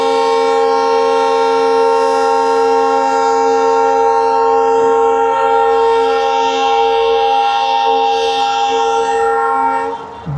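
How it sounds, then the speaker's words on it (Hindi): A diesel locomotive train passes close by on an Indian Railways line near a flyover, its loud sustained horn blaring over the rolling rumble of the wagons before cutting off at the end. "हाँ डीजल इंजन है भाई ये।"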